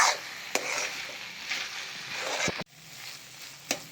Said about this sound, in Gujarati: હલાવીને મિક્સ કરી દઈશું.